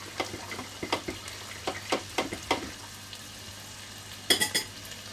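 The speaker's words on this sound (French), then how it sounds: "le vin blanc, il s'évapore" White wine hitting a hot risotto pan in a turkey risotto, giving a crackling sizzle with a series of sharp stirring scrapes and clinks, close and fairly quiet, a brief burst of clatter near the end.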